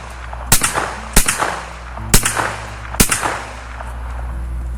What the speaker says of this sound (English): I'm going to go ahead and send some 9mm downrange here